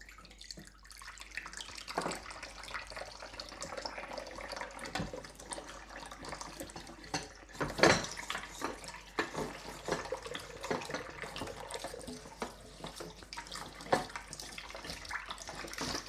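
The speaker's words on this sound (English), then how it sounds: "washing up is actually like the worst part, and I'm having to do it before I've even started" Dishes being washed up by hand under a running kitchen tap, with a steady stream of water, splashing and clinks of crockery, plus one louder clatter near the middle, close by and without speech.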